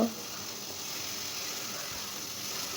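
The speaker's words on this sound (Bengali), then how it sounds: "টমেটো কুচিগুলো একটু কিছুক্ষণ নাড়াচাড়া করব" Chopped tomatoes in a frying pan for a potato and onion egg omelet give a constant, even sizzling hiss from close by, with a brief clatter at the start and no talking.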